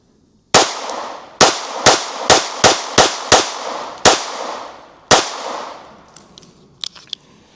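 Gunshots from a S&W Bodyguard 2.0 Carry Comp .380 ACP pistol firing AAC 380 ball ammunition, nine sharp loud reports in an uneven string with ringing decay, followed by a few faint clinks.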